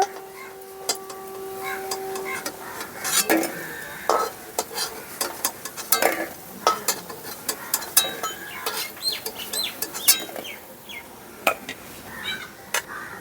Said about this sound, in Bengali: সবগুলো বড়াই একইভাবে ভেজে নেব।